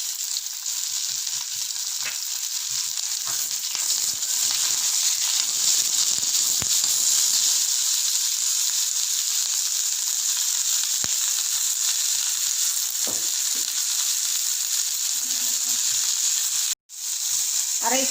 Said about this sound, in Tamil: அப்போ தான் சீக்கிரமாக வெங்காயம் வதங்கும்.